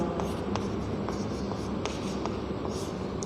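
Chalk or marker scratches steadily across a classroom board during an economics lecture, a continuous close scraping with brief sharper strokes, the room fairly noisy and no voice heard.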